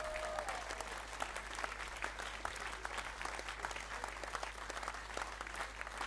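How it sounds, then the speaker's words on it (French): Sustained applause from a crowd at an Éric Zemmour political rally in Orange, dense continuous clapping heard from a distance over a steady low hum, with no break for the full six seconds. "Je vous demande d'applaudir Jean-Christophe Letiers,"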